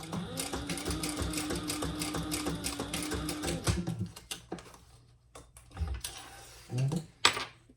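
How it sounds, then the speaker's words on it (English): A sewing machine stitches two rows on a small sling bag, a close, fast steady rattle for about four seconds, then stops, followed by scattered handling clicks and rustles of fabric. "And I'll do 2 rows of stitches."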